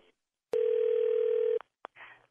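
A steady telephone dial tone holds for about a second on a call being clicked over to another line, framed by brief clicks and a short burst of voice afterward.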